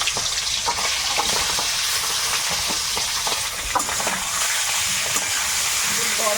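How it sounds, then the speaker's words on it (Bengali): River fish go into hot oil in a wok in the Sundarbans, giving a loud, steady sizzle with occasional stirring scrapes and brief voices under it. "এবারে আমি মাছগুলো দিয়ে দেবো"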